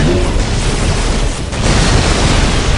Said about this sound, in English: Let the grenade fly!